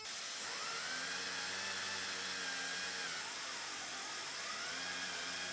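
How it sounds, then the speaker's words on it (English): A malfunctioning electric sander whines continuously at close range, its motor pitch wavering up and down unevenly and never settling. "my sander is definitely not working well"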